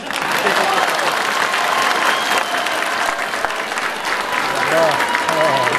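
A large crowd packed into a square at a DPS political rally applauds steadily and loudly, with cheering voices and whistles mixed into the continuous clapping.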